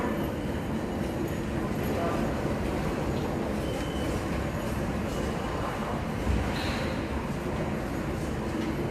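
A train at Paris Gare du Nord station rolls with a continuous dense rumble and rattle of wheels, loud and close, with a brief squeal near the end and voices faintly mixed in.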